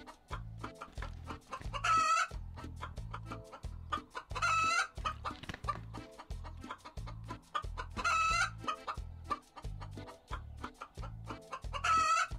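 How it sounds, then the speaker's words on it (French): Chicken clucking and crowing from the video game SOPA: Tale of the Stolen Potato, loud and repeated in rhythmic bursts over a steady looping game soundtrack, with no talking. "Mais qui a ramené une putain de poule?"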